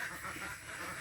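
Farm ducks quack in a brief burst, close and fairly loud, against a noisy outdoor background.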